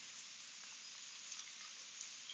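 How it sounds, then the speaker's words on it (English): Light rain falling steadily outdoors by a pond, a soft continuous hiss of fine drops with a few faint taps standing out, no voices. "Got a bit of rain."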